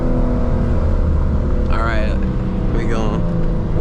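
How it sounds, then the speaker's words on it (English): A Lexus RC F's V8 engine rumbles and revs loudly during a hard drive, with two sharp downshift blips rising and falling in pitch, while a person speaks briefly over the engine noise. "The downshifts are nice. Lexus always sounds good though."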